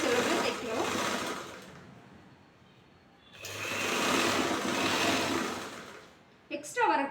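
An electric sewing machine stitching two layers of blouse fabric together whirs in two long, steady runs separated by a brief pause, fairly close and even in speed.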